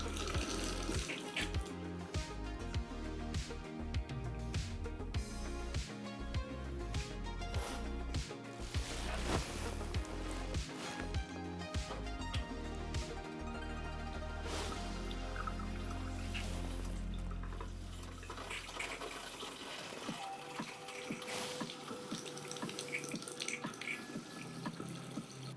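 Hot water runs from a sink faucet in a shed, a steady close splashing stream that carries on for most of the clip before thinning out near the end.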